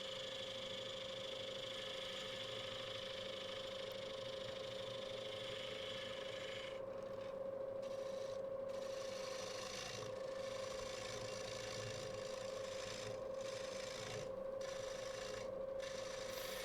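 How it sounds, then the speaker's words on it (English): A wood lathe spins a large oak bowl while a tool takes a final cut across its back, a steady motor hum with a continuous rasping scrape and a few brief pauses in the cutting, with no talking. "just putting a final cut on the very back, get that down to almost flat"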